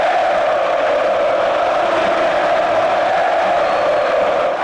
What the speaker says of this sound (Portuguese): impossível é não escutar a torcida do Galo.